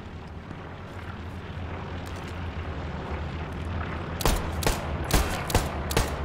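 Colt pistol shots in the World War II shooter Hell Let Loose, a few sharp cracks in the last two seconds over a steady battlefield rumble.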